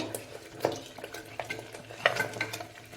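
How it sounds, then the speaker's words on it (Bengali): Boiled mutton is stirred and fried with masala in a pan, a soft sizzle beneath a few sharp scrapes and clinks of a spoon against the pot, spaced irregularly and close by. "আর এইবার মাংসের সাথে আমি খানিকক্ষণ আরো মশলাটা কষিয়ে নেব"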